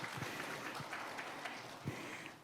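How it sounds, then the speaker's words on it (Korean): Audience applause at a university president's inauguration ceremony in a hall, a faint, even patter of clapping heard from a distance, with no voices. "큰 감사의 박수 부탁드리겠습니다."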